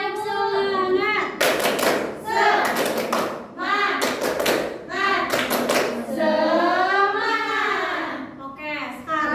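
A school class claps out the rhythmic 'tepuk semangat' chant, bursts of clapping alternating with children chanting in unison, loud and close.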